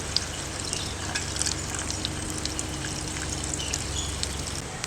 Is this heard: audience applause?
no